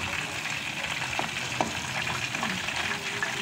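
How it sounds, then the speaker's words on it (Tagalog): A pork leg deep-fries in hot oil for crispy pata, giving a steady bubbling sizzle with scattered pops. It is moderately quiet and continuous, with no voices. "Habang piniprito natin"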